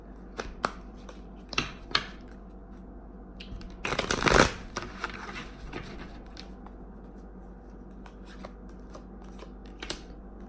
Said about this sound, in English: So for you Leos, I'm only going to shuffle twice.